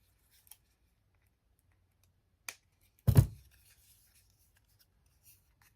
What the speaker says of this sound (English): I'm going to have to trim the little corner a little bit